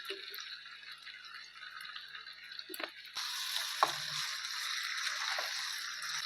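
Soy sauce poured into a pan of sizzling chilli paneer, a steady bright hiss that jumps louder partway through and keeps frying close by.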